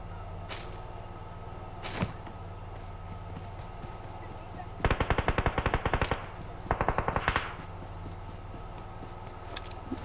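Bursts of automatic gunfire in the PUBG video game crackle in two rapid strings of shots, with a few single reports earlier, heard at moderate volume over steady game background noise.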